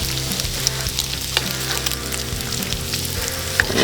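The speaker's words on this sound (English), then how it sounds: "So I'm just going to dump this bacon in there and all the grease with it." Fried bacon and its grease tipped into a pot of peppers, onion and garlic for chili on a Char-Griller Grand Champ offset smoker, a loud close steady sizzle with a few clinks and scrapes, no talking.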